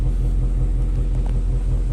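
A new car's engine coming out of the dealership at quarter throttle, a close, steady low rumble with a throbbing pulse, holding fairly even with no sharp rise in pitch.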